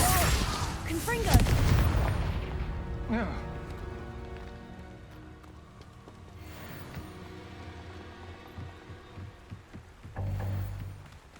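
Hogwarts Legacy Confringo blasting spells burst in a loud explosion near the start, then a few more booms and crackling debris fade out, with voices talking over the spell effects.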